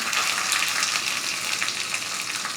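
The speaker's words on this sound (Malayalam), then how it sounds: "ഒരു വറ്റൽ മുളക് കുറച്ച് കറിവേപ്പില ഇതിലോട്ട് ഒരു നുള്ളു കായപ്പൊടി ഇട്ട് കൊടുക്കാം" Dried red chili, curry leaves and a pinch of asafoetida crackle in hot oil for a coconut chutney tempering, a steady loud close sizzle with bright spitting pops throughout and no voices.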